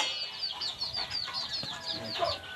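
Several chickens cluck and chirp in quick, overlapping bursts, close by and fairly loud, with no talking.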